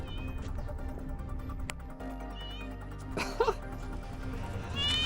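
A cat meows briefly in the middle, a short cry over a steady hum and background noise where people are hanging out while painting parts.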